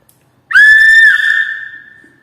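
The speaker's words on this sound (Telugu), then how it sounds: "ఓ ఇది కూడా పెద్ద స్కామే. విజిల్ ఇచ్చాడు" A toy whistle is blown once, a loud, steady shrill tone lasting about a second and a half before it tapers off, clear and close with no talking.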